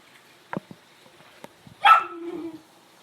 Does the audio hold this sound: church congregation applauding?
no